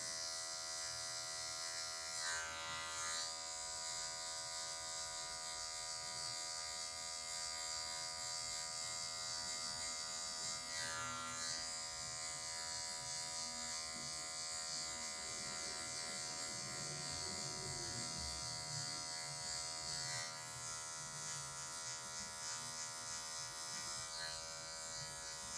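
Electric hair clippers cutting a mid fade, a steady close motor buzz running without a break, its pitch dipping briefly a few times as the blade meets hair, with no voices.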